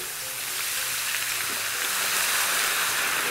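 White vermouth hisses in a hot pan over garlic and onions, a steady, close, continuous sizzle with a faint rising surge and no talking.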